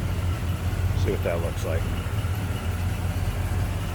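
A 1979 Pontiac Trans Am idles with a steady low rumble while someone talks briefly over it.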